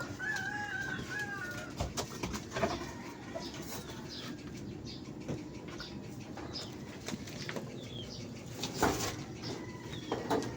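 Chickens cluck and a rooster calls faintly amid a busy outdoor background, with scattered sharp knocks and rustles.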